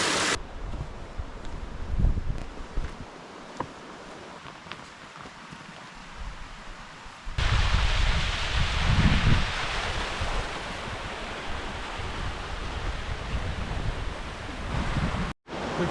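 A small waterfall and stream on a hiking trail in Shenandoah National Park, a continuous rushing hiss of flowing water that grows louder and fuller midway, with wind buffeting the microphone.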